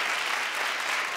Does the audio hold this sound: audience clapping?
yes